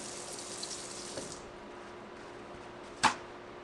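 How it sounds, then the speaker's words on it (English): A kitchen tap runs for hand washing after handling garlic while roasted garlic mashed potatoes are made, a faint hiss of water that tapers off, then a sharp clack near the end. "Hands a good wash."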